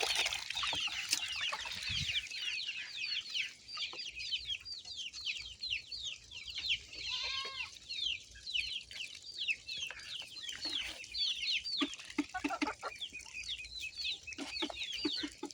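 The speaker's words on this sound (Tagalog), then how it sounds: "Yung mga manok nga pala dito ay magkakahalo na. May Texas, may native, may cross ng Rhode Island Red." A mixed backyard flock of chickens, Texas, native and Rhode Island Red crosses, clucks and chatters continuously at moderate distance, with overlapping calls and occasional louder squawks.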